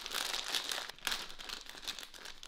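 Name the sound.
opening a packet of ramen noodles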